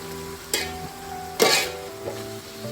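Chicken biryani masala sizzles quietly in a pot while a spoon stirs it, two distinct scraping bursts over a faint steady hiss, close by.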